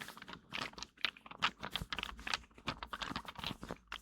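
Jumbo acrylic dice with little teddy bears inside, shaken in a cloth bag, give a steady close-up run of dense clattering clicks, muffled and rustly, alone without speech.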